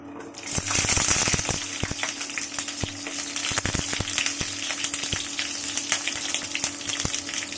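Garlic and green chilies sizzle steadily in hot oil for a Bengali eggplant-tomato mash, with a continuous crackling fry broken by sharp clicks and taps of a utensil against the pan, close and fairly loud.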